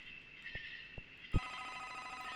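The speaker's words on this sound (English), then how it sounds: "I hear a phone ringing." A telephone rings in the video game The Vermander Curse with a steady electronic trill, a few soft thuds underneath, and then the ringing tone shifts and continues.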